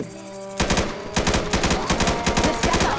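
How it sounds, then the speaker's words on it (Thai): Rapid automatic gunfire from the video game Left 4 Dead 2, loud fast bursts of shots in a steady rhythm, beginning after a short quieter lead-in and continuing to the end. "เดี๋ยวกูยิงเลยนะทั้งนั้น โอ้โหยิง"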